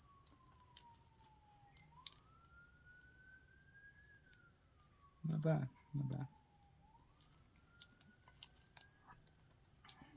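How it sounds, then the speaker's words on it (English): A faint siren wails in the background, its pitch slowly rising and falling, with two short bursts of chewing or clicking noise partway through. "hopefully you guys hear the siren."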